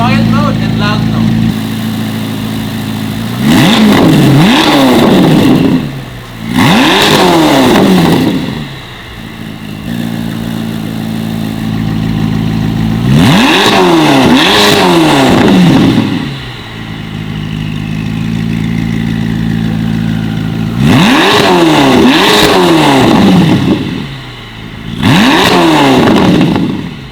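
A Corvette ZR1 engine fitted with high-flow catalytic converters, switched between quiet and loud exhaust modes, revs hard in repeated loud rising-and-falling bursts over a steady idle.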